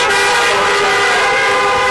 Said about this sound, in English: Give a honk if you got it.